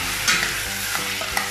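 Steady, close sizzle of tomatoes added to garlic and onion sautéing in a pan for a Filipino green bean and canned tuna dish, with soft stirring taps breaking through the continuous hiss.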